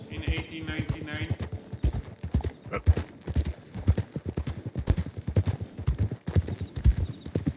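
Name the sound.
horse galloping over prairie in video game Red Dead Redemption 2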